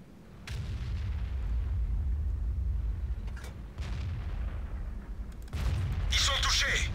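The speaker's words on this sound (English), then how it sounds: "I'll fire high explosive too" A tank in World of Tanks, the AMX 30B, firing a high-explosive shell, heard as deep booming artillery-like blasts over steady engine rumble, with a sharper crack near the end while players talk.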